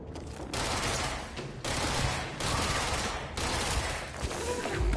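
An upgraded gun in the video game Control fires in sustained loud bursts, dense rapid shots in three long volleys separated by brief gaps.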